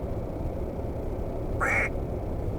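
A single mallard hen quack, imitated by a person's mouth call, sounds clearly and briefly over a steady low rumble of background noise inside a car.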